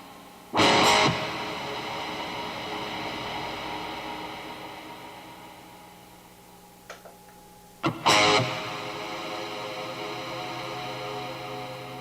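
Two loud strummed guitar hits through a particle reverb effect, each followed by a long shimmering, grainy reverb tail that slowly fades; a couple of faint clicks come between them.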